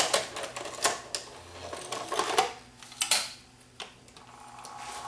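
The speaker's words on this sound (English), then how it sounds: "If I turn it on, turn on the power and load up my tape." Hitachi VT-39EM multi-system VHS player with a slipping belt, switching on and taking in a tape: a run of close mechanical clicks, clacks and whirring from the loading mechanism, with no voices.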